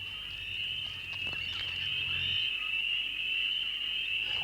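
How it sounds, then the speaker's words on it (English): A chorus of frogs calling at night in the Argentine wild, one steady high-pitched trilling drone running unbroken and fairly close, with a low hum underneath. "The frogs are deafening."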